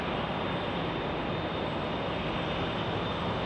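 Southwest Airlines Boeing 737-700 arriving from Las Vegas at Phoenix Sky Harbor Airport, a steady broadband roar of jet engine noise holding even and fairly loud with no pauses or talk.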